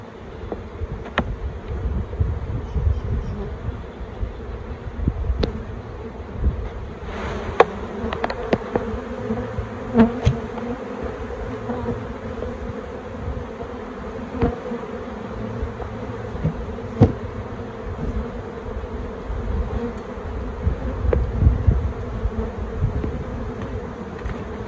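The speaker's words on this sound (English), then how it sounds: "there's going to be bees flying around here for a little while." Honey bees from a queenless hive fly around in a dense, continuous buzzing swarm close by, with occasional louder passes near the listener, heard outdoors without talk.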